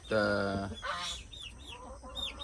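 Chickens and roosters in a backyard chicken range, a loud harmonic rooster-like squawk up front followed by softer scattered clucks and short chirping calls, with no talk.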